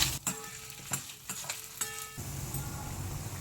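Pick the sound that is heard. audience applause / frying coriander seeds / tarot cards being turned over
frying coriander seeds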